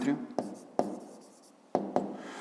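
Math answers for a fifth-grade exercise being written by hand, with several sharp pen taps and scratchy strokes spaced irregularly over a soft background, close and fairly quiet.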